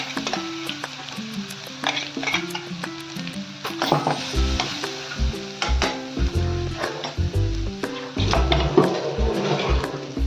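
Ginger garlic paste hits hot oil with cumin in a pan for ragda, giving a loud continuous sizzle and crackle, with stirring knocks and scrapes of a spoon against the pan throughout; no one speaks.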